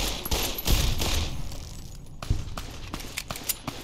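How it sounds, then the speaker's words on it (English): Gunfire in the video game Fallout New Vegas: a burst of sharp shots and rattling fusillade, with loud hits near the start and a series of scattered cracks toward the end, heard alone without talk. "Ow, who is shooting at me?"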